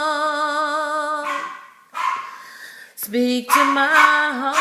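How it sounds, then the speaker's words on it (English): A dog barks a few sharp times in the gaps of a sung melody, fairly close and loud. "That's my dog barking."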